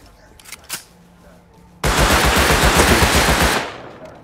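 Gunfire in a shooter video game: a faint shot or two, then a loud, close, rapid automatic burst that lasts nearly two seconds before it cuts off and fades.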